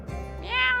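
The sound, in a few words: cat meowing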